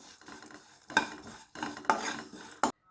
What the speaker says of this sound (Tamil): இது மூணையும் நல்லா வறுக்கணும் செவக்க வறுக்கணும்